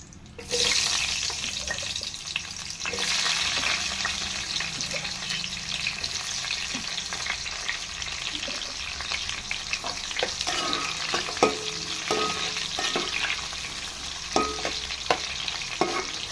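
Eggplant pieces frying in hot oil in a pan with tempering spices and peanuts for eggplant rice, giving a steady close sizzle with occasional stirring clicks.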